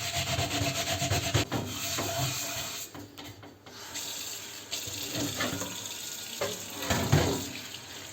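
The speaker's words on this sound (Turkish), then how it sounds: "şunu bir durulayalım. Şu altında var biraz siyahlık. Orada temizleyelim." Burnt pot rinsed under a running kitchen tap while being scrubbed, with steady splashing water and rough rubbing strokes against the metal, close and fairly quiet.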